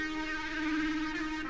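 A sustained synth note in FL Studio with rich overtones, wavering gently in pitch as a steady vibrato modulation sets in, playing alone at low volume.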